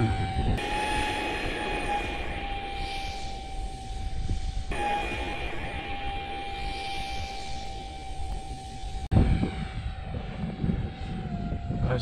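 Arrows Viper 4S 1300 RC model jet in windy conditions, its steady high-pitched electric ducted-fan whine sustained throughout, loud and close with gusty wind noise underneath and a brief clatter near the end.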